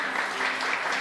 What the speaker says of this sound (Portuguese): As palmas glorificam o nome de Jesus